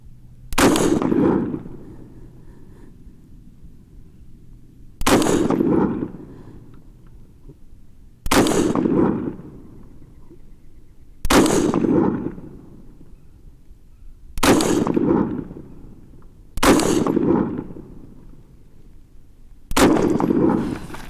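An AR-15 rifle with a Bear Creek Arsenal upper fires seven sharp, loud reports spaced a few seconds apart at an outdoor range, each shot ringing with a short echoing decay, no speech.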